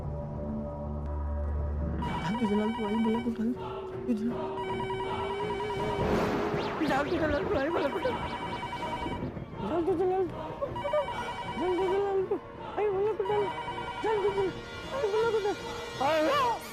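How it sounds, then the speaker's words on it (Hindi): A telephone rings in repeated trilling bursts, close and clear, while people talk over it. "अब फिर से एक बार फोन ट्राई कीजिए ना"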